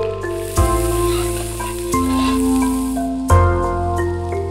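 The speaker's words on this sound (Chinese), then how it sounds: "热锅起油，大火烧至7成热，下蒜片、京葱、泡姜、" Garlic slices, Beijing scallion, pickled ginger and Sichuan peppercorns hit oil in a wok heated over a high flame, giving a steady sizzle and crackle that runs throughout beneath prominent background music.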